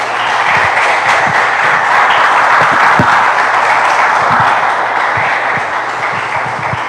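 Church congregation applauding in praise to the Lord, a dense, loud, sustained wash of many hands clapping together that holds steady throughout.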